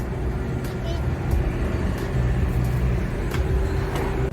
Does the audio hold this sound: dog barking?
no